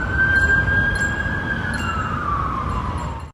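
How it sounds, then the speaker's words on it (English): A police siren wails outside a church, one steady tone that slowly sweeps downward, moderately distant and not very loud, over a low rumbling background. "sirens get louder outside the church."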